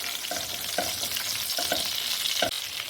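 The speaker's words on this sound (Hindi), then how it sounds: "सबसे पहले 1 मिनट के लिए हम जीरे को भूनेंगे" Cumin seeds frying in hot oil in a pan, a steady sizzle broken by several sharp crackles and stirring clinks, close and alone with no talk.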